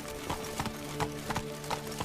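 Hooves of Roach, a horse in the video game The Witcher 3, clip-clop in a steady, even rhythm of close, distinct thuds.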